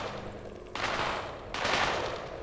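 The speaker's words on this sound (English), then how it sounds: "Whoa, there's some gunfire going on." Bursts of rapid gunfire crackle in two loud volleys, harsh and noisy like game combat, with no voices.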